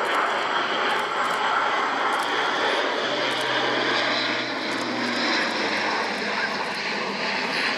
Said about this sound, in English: A slower pass now with undercarriage down.